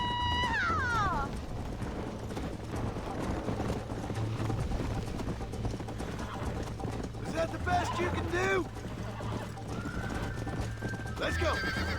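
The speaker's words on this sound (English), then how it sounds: "The horse won't run any faster." A galloping horse in the Western video game Red Dead Redemption: rapid clip-clop hoofbeats throughout, with neighs and whinnies rising above, under game music and someone talking.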